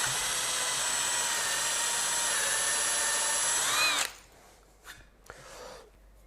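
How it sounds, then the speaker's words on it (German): A power drill bores and countersinks a screw hole into wood with a loud, steady high whine for about four seconds. It winds up briefly, then stops abruptly, followed by a few faint rubs and clicks of handling. "Wir können jetzt auch mal ein bisschen tiefer bohren, dann verschwindet nämlich die komplette Schraube dann auch."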